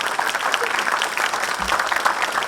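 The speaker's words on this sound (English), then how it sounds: "A big round of applause for SNB sir," Audience applause for a principal at an academic conference, dense even clapping that continues without a break across the whole short stretch.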